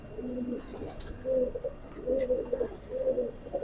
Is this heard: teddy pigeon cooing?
yes